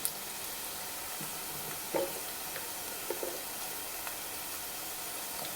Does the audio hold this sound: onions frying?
yes